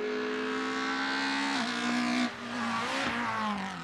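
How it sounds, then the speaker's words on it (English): A course car pulling away at a motor race, its engine revving up through gear changes with a brief tyre squeal, close and loud before easing off. "we've got a course car leaving now"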